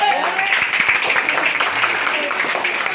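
A crowd claps together in dense, steady applause, a bright rattling wash of hands with no pauses.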